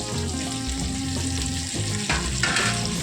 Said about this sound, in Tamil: நல்லா அந்த ஈரப்பதம் போகிற அளவுக்கு எல்லாத்தையும் நல்லா கிண்டி வைக்கலாம்